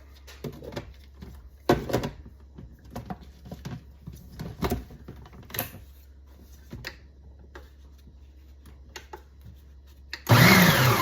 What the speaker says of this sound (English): we're going to just lightly pulse that a couple of times to mix up the crumbs and the butter